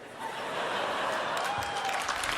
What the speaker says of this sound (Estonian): Mis te plaksutate, tehke järgi.